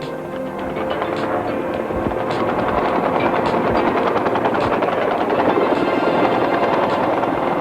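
A helicopter's loud rotor drone runs the whole time as rapid bursts of blank fire from a single 7.62 machine gun rattle over it, close and continuous, at an air show demonstration.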